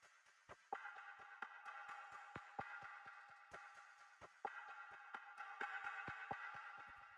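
Quiet percussion loop sitting in the background of a hip-hop beat with no effects, made of sparse sharp clicks and short pinging hits in a steady repeating pattern.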